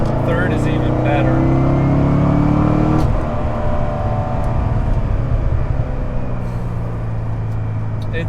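Corvette sports car engine pulling hard through the gears, a loud, close drone that holds steady then drops as it shifts around the midpoint and builds again, with someone talking over it.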